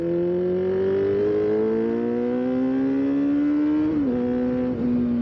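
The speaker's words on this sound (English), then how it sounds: "All these cars ruining my fun." Cars accelerate along a road nearby, one engine's loud droning whine climbing steadily, then dipping briefly as it shifts before settling back. No voices are heard over the engine noise.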